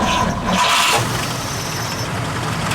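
A 1941 Cadillac custom limousine engine cranks and fires, a brief burst of starter noise settling into a steady low running rumble, close and fairly loud, with no voices.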